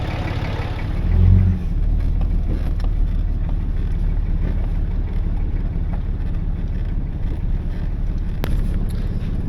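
A truck grinds slowly along a rough track with a steady low rumble and rattle, joined by wind buffeting the microphone, a brief louder bump near the start and a faint click later on.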